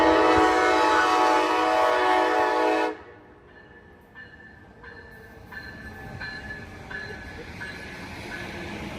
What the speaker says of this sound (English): I'm pretty sure that's the train